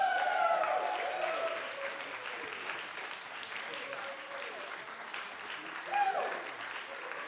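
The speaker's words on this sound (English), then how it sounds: "Now here's the part where you can all start clapping again" Audience clapping at a jazz scholarship concert, a broad sustained wash of applause from a crowd, fairly steady with a few voices and a brief whistle rising near the end.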